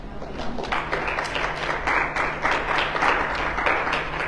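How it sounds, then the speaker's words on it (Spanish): Church congregation at a Sunday service breaks into strong, sustained applause, many hands clapping steadily at moderate distance under a faint low hum. "¿Cuánto le dan un aplauso fuerte?"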